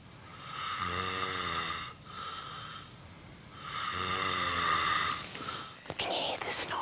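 A man sleeps in a house and snores loudly in two long rasping breaths separated by a quiet inhale, close to the listener, followed by brief rustling.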